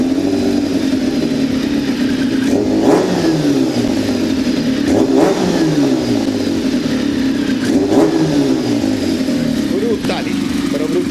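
A homebuilt kart cross engine idles loudly nearby while the throttle is blipped, producing several distinct revs that rise and fall over a constant rumble, with someone speaking Spanish over it.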